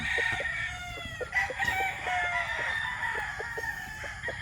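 A Boston Black gamefowl stag crows loudly and close, one long drawn-out call with clucking and other fowl noises around it.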